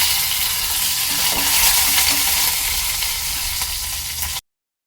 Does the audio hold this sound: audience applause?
no